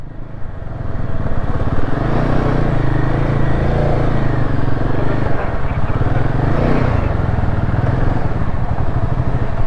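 A motorcycle on a Ladakh road trip rolls into a lakeside camp in Nubra Valley, its engine a loud, close, continuous rumble that holds steady throughout.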